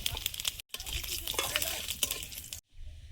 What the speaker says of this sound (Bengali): চচ্চড়িটা বসিয়ে দেবো। শুকনো লঙ্কা, পাঁচ ফোড়ন,